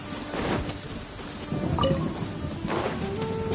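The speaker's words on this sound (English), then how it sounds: "Taking a stroll in the middle of a downpour" Steady rain falls in Genshin Impact, a continuous hiss with a few swelling gusts and faint rumbles and occasional small clinks, no voices over it.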